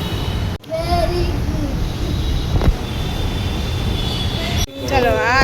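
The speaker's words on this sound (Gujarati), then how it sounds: "ચલો આ છે મેટ્રો સ્ટેશન." Steady rumbling ambience of a large metro station with a constant broadband roar, faint tonal whines, a brief clack near the middle and two abrupt cuts. Voices talk faintly within the noise.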